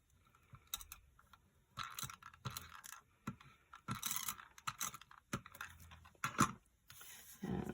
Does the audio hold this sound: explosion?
no